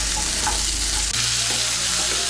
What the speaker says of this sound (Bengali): মিশিয়ে নিয়ে সবজিগুলোকে আরেকটু ভেজে নেব।